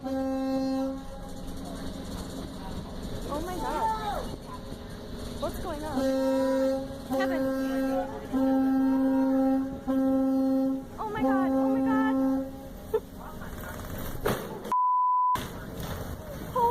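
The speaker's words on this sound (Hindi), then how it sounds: "फेरी ऑपरेटर ने लगातार हॉर्न बजाया" A ferry's horn blasts repeatedly in long steady tones, about five sustained honks over several seconds, loud and close amid a ship-collision near miss, with a brief electronic beep near the end.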